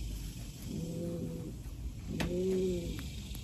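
Racing pigeons from the Florida Pigeon Derby give two soft, low cooing calls close by, separated by a brief pause, with faint clicks and rustling in the background.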